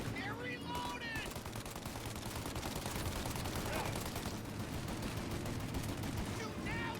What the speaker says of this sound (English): Shoot out their gun when there's a break in their fire!